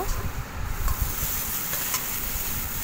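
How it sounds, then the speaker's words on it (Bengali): Salt and turmeric being fried with spices in a pan, giving a steady broadband sizzle with low stirring rumble throughout, moderately loud and continuous with no talking. "স্বাদ মতো লবণ আর স্বাদ মতো হলুদ। ভালো করে মশলাটাকে একটু ভেজে নেব।"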